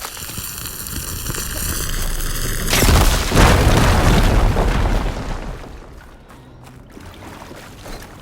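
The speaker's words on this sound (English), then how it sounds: "I'll be able to blow up that fire here." A loud explosion blasts open a blocked tunnel in Horizon Forbidden West, a deep rumbling boom that swells and then trails off into a long, fading wash of debris and noise.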